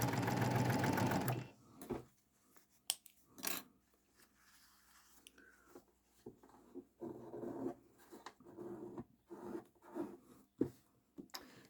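A sewing machine stitching a quilt seam runs in a loud, fast, close burst at the start, then stops, leaving scattered handling noises, fabric rustles and small knocks.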